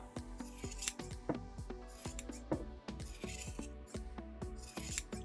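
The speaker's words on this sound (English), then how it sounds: "Just cut around the edges" Scissors trim yarn around the edges of a pom-pom in a steady series of quick, close snips, with occasional brighter clicks of the blades meeting.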